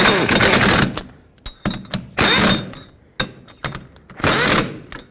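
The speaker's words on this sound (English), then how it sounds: "let's snug them up. I'm going to go in a cross pattern, that way it seats evenly." Hub assembly bolts on a 2001–2007 Toyota Highlander being snugged in a cross pattern: loud, close bursts of a ratcheting tool alternating with sharp clicks and clanks, four separate runs with short pauses between.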